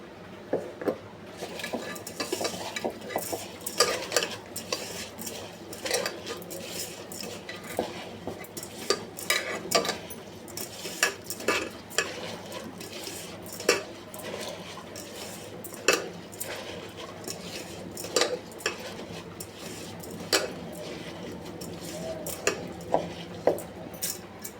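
Khichuri being stirred and mixed with pure ghee in a pot, a utensil scraping and clinking against the metal in irregular bursts, close and fairly quiet with a low steady hum underneath.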